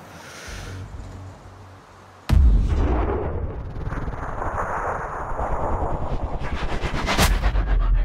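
Loud sniper rifle gunfire in a video game: a sharp crack followed by a long rumbling echo that swells through the clip, then a second sharp shot near the end.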